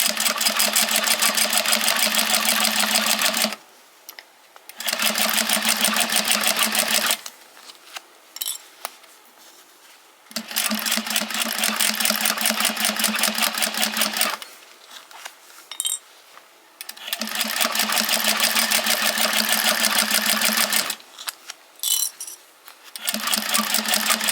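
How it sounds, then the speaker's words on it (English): A sewing machine stitching leather for a key fob bracelet runs in several rhythmic bursts of rapid needle clatter, separated by short pauses for back stitching, all close up with no talking. "I'm going to go really slow, and I'm going to back stitch right there."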